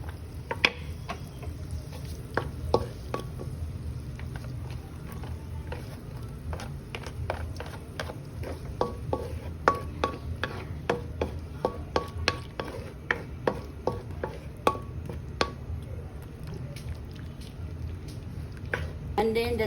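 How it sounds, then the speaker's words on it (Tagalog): Garlic and onions sauté in a pan with a low, soft frying hiss under irregular clicks and scrapes of stirring, fairly quiet and close throughout. "And then we're gonna saute the garlic. And saute the garlic. And then saute the onions."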